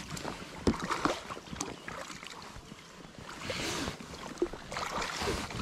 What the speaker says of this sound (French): Bon après les rames font plus de bruit que...